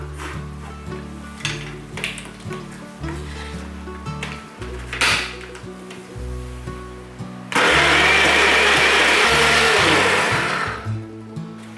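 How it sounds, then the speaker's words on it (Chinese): A blender whirs through juice with ice cubes, first churning in uneven stuttering pulses with changing motor pitch, then roaring loudly at full speed for several seconds before winding down. "加一些冰块，防止果汁在打的过程中升温，造成氧化。"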